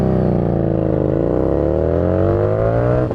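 A Harley Davidson Street Rod 750 motorcycle engine roars loud and close, its pitch sliding down and then climbing as the rider throttles up, with no talk.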